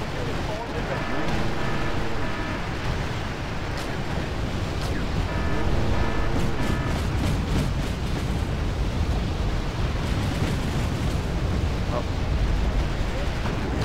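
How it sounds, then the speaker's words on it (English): Sustained artillery fire in the strategy game Wargame European Escalation, a continuous rumbling wash of explosions like surf or wind, with a few crisp volleys cutting through and voice chatter underneath. "Stop the artillery fire."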